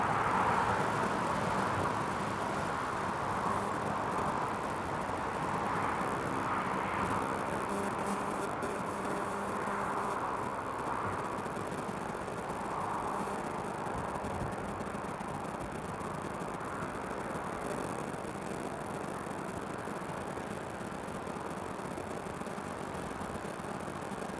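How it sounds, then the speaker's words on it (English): An EasyJet airliner inbound from Alicante on final approach to Newcastle International Airport, a steady distant jet roar holding at an even level throughout, with no voices. "EasyJet just on final now, coming in from Alicante."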